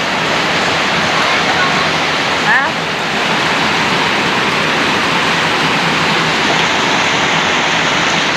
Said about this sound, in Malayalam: എന്തൊരു മഴ